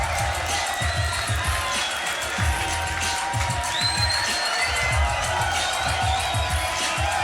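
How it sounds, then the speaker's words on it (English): A big crowd at the Grand Beatbox Battle 2019 keeps up loud, continuous cheering, whistling and whooping for the beatboxer Inky, with a thumping beat pulsing underneath. "make some noise for Inky!"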